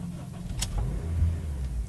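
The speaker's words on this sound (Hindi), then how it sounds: "गाड़ी को हमने स्टार्ट कर लिया" A 2012 Honda Civic Reborn with a 1.8 engine starts with a short whir, then settles into a steady low idle rumble heard from inside the car.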